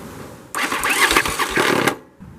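The starter of a Yamaha Virago XV700 motorcycle, fitted with a replica S&S Super E carburetor, cranks the engine in one harsh, grinding burst lasting about a second and a half, close and loud, before cutting off.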